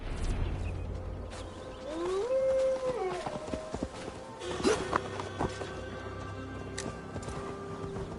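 Galloping horse hooves in the Assassin's Creed Valhalla video game, a steady drumming of hoofbeats through a Gloucestershire forest with a neigh and other game sounds layered over the riding.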